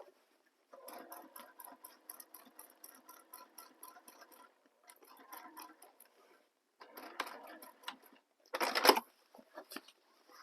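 A sewing machine top stitches a seam on a handmade Brevity bag, running in bursts of rapid ticking with short pauses between runs and a louder final stretch, heard close and without talk.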